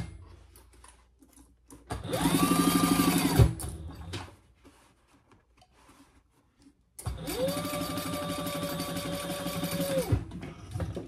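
A home sewing machine runs in two short bursts stitching fabric for a hobo bag, its whirring motor rising to a steady buzz for about two seconds, then again for about three seconds after a quiet pause.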